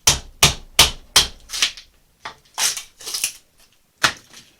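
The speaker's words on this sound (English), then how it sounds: "For splitting off a chunk like this, you can just grab a chisel." Chisel blows split chunks off a wooden half-hull boat model, a quick run of four or five sharp close knocks, then a few more spaced strikes and cracks.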